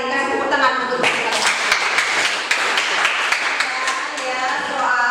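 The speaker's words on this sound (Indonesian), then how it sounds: "kasih tepuk tangan untuk kita" A classroom of students claps together after a lesson, a dense, steady patter of many hands held for several seconds, with brief voices at the start.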